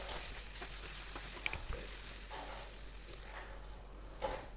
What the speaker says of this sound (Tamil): இந்த ஸ்டேஜில் கொஞ்சமாக இஞ்சி பூண்டு பேஸ்ட்டும் ஆட் பண்ணி நல்லா வதக்கி விட்டுக்கு.